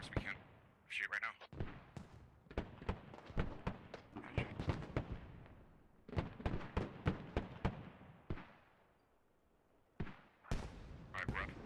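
Bursts of gunfire and sharp blasts crackle in the military shooter Squad during an esports match, clusters of rapid shots and impacts with brief lulls, heard under overlapping voice chat and commentary.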